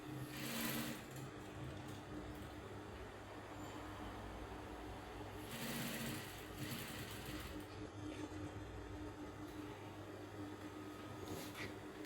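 A sewing machine stitches a princess dart bustier pad, giving a faint, steady mechanical whir with a low motor hum that swells into brief louder bursts of running.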